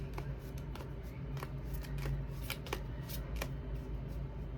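Tarot cards are shuffled by hand, giving a dense, continuous patter of close papery flicks and slaps with no voice over it.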